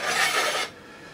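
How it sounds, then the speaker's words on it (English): A hand scraper rasps across bandsaw metalwork in one short, bright, gritty stroke, close and fairly loud, then cuts off into quiet. "I set to scraping"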